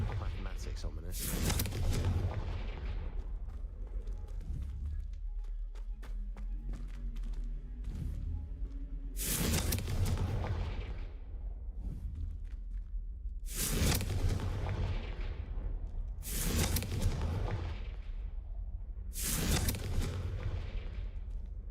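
Blasting spell explosions in Hogwarts Legacy: several loud, deep booms at a few-second intervals, each with a sharp burst and rumbling decay, over continuous game background and voices.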